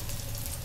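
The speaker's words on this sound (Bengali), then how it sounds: "পরিষ্কার করে নিয়ে কপিগুলো ভেজে নিচ্ছি" Cauliflower florets fry in a pan with an even, close, hissing sizzle that holds steady for a brief moment, with no voices.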